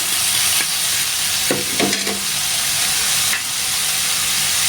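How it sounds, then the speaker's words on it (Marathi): Smashed eggplant for baingan bharta fries in a hot pan with a constant loud sizzle, while a spoon scrapes and stirs it with a few brief clinks, up close and without voices. "आणि याला छान आता परतून घेऊया."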